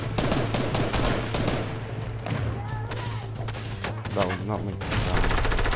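Gunfire in the Fortnite video game, dense rapid bursts of shots over a steady game soundscape, with a player speaking briefly.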